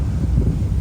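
Blustery seaside wind buffets the microphone in a steady low roar for under a second, with no voices.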